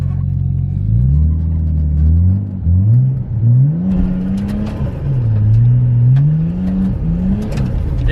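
A Nissan R33 Skyline drifting on a dirt surface, its engine close and loud, revving up and down continuously in rising and falling sweeps with steady rumble throughout.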